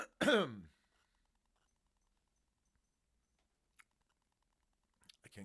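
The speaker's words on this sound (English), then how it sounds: "I can't clear my throat." A single loud, close throat clearing rasps out near the start, followed by near silence broken only by a few faint small clicks and taps.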